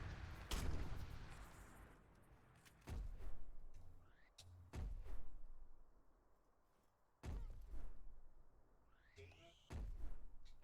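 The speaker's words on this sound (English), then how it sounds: "I'm like running around and shooting right now." Gunfire while running around and shooting in Obscurathon 2: Crackdown, five or six heavy booming shots spaced a couple of seconds apart, each with a lingering echoing tail, fairly close.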